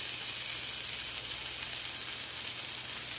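Potatoes sizzle steadily in hot oil in a pan as turmeric is added, a close, even frying hiss with no talk.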